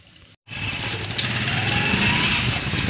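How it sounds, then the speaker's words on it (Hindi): A motorcycle, just wheeled out of a house early in the morning, starts running after a brief silence, its engine holding a steady, close, rough drone with a low pulsing idle. "ते मोटरसाइकिल हुन मैं घरों काढ दिए ते हुन चलने आ।"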